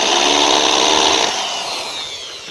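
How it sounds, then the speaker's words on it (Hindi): A power drill fitted with a small bit whines loudly at close range while marking hole positions during a solar panel installation. The sound is steady, then drops slightly in pitch and level as the drill eases off. No voices. "मेरे पास ये ड्रिल के आगे छोटी वाली बिट है, तो मैं इसके ज़रिए ही डायरेक्ट निशान लगा लेता हूँ"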